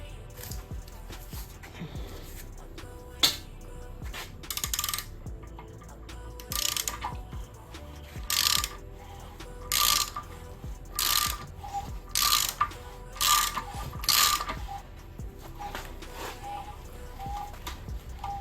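A ratchet wrench cranks the engine of a 2006 Acura RSX Type S over by hand with the spark plugs out, giving repeated bursts of sharp clicking pawl ticks in a steady rhythm, close and clear against a quiet garage.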